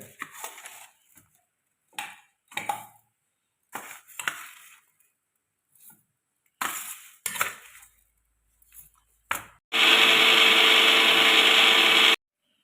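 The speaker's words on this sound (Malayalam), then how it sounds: "ഇതിലേക്ക് രണ്ട് മൂന്ന് ഏലക്കായ അരിയും കൂടി ഇട്ട് കൊടുക്കുന്നുണ്ട് ഇനി നല്ല വൃത്തി ഒന്ന് പൊടിച്ചെടുക്കുക" An electric mixer grinds roasted rice with cardamom in a series of short, loud, crunchy pulses separated by pauses, then runs for one longer continuous burst.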